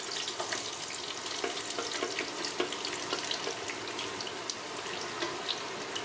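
A generous pound of onions sautés in regular vegetable oil for lecsó, giving a continuous soft hiss and crackle with faint scattered pops, fairly quiet and with no talking.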